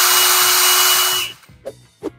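Einhell 18V brushless drill-driver set to its high-speed gear, up to 1,800 RPM, whines loudly and steadily at full speed, then cuts off and winds down, followed by two short bursts of the motor.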